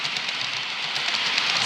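Steady mechanical whirring and rumbling of model trains running continuously around a model railway layout indoors, with a faint rhythmic clatter and no talking.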